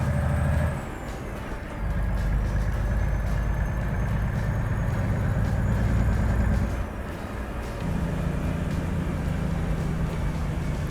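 Truck retarder engine braking in the Euro Truck Simulator 2 video game: a loud, steady low droning rumble with a faint whine above, dropping and resuming in level partway through, with no talk.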